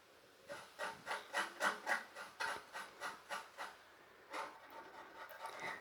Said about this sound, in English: And now we will scrape the coconut and get enough of the scrapes.